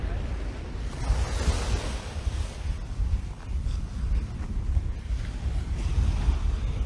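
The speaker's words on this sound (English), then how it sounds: "I'm going to walk you right down by the sand so we can actually hear some waves and stuff breaking" Ocean waves break and wash up on the sand at Pierhead and Carlisle Bay, a rolling surf roar heard close by, heavily buffeted by wind noise on the microphone.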